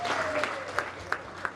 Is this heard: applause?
yes